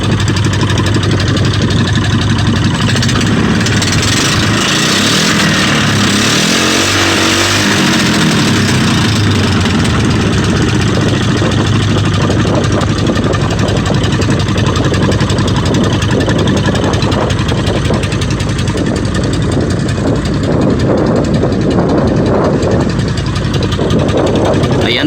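A boat engine idles steadily with a low, continuous rumble and faint knocking, loud and close throughout, with some voices faintly underneath.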